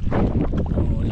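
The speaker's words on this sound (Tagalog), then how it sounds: "Lakas talaga ng hangin." Strong typhoon wind buffets a small fishing boat at sea, battering the microphone with loud, gusty roaring for about a second.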